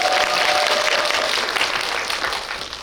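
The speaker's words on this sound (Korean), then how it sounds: "이 정도면 한번 박수 주셔도 될 것 같아요" An audience applauds at a film Q&A event, a broad, dense wash of clapping from many hands that starts full and slowly thins toward the end, with no talking over it.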